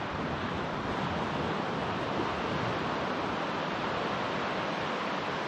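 Waves breaking and washing up on Matarangi Beach, a steady, loud roar of surf with wind buffeting the microphone throughout, no voices.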